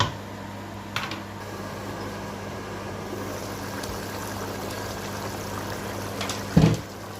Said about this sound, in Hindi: और हम इसको उबलने के लिए छोड़ देंगे।